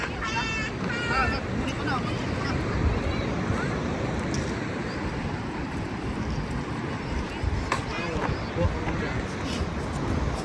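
Strong waves slosh and wash around a small boat on a family fishing outing, a steady rough roar of water and wind buffeting close by with faint voices underneath.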